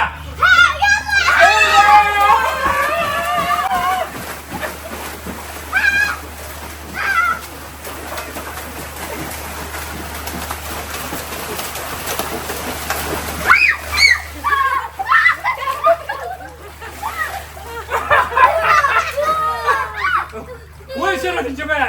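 Water splashes repeatedly in a pool, with irregular bursts mixed among children's shouts and chatter, and people talking throughout.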